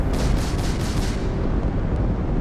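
Missiles fire in the video game Starfield: heavy booming blasts with a rumbling, continuous low roar, loud and close, the sharper bursts fading into a steady deep drone.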